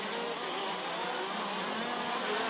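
Racing karts revving together on the grid before a standing start in a karting championship, a dense, steady roar of many engines held at rising revs, continuous and fairly distant.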